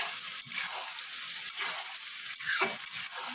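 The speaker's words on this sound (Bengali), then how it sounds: "সয়া সস দিয়ে একটু ভালো মতো ভাজা ভাজা করে নেবো" Rui fish for chilli fish frying with soy sauce in a pan: a steady, close hiss and sizzle, with soft stirring scrapes rising and falling throughout.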